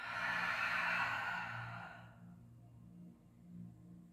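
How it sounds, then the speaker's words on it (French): A long breathy exhale through the mouth during a yoga flow, soft and close, fading after about two seconds into quiet low background hum, followed by a fainter breath. "Inspire. Expire par la bouche."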